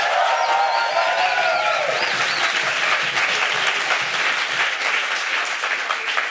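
A science slam crowd in Freiburg bursts into loud, dense applause that holds steady throughout, with a few whistles and cheers rising over the clapping near the start.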